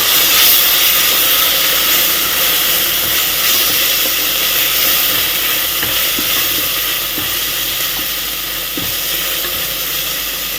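Ginger paste and turmeric sizzle steadily in hot oil in a pan for chicken curry, a dense continuous frying hiss with occasional stir clatter, close and loud throughout, no voices.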